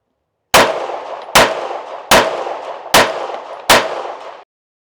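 Pistol fired at steel targets during handgun ammo testing: five loud, evenly spaced shots, each a sharp crack followed by a ringing metallic clang that decays before the next. No one speaks.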